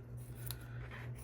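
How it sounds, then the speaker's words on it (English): Paper scissors snip through fabric, a short crisp cut or two up close, quiet over a low steady hum. "That's my paper scissors."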